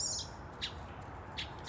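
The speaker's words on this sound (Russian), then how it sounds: "Это птенец." A young bird chick gives three short, high chirps spaced apart over a faint background hum. No one speaks.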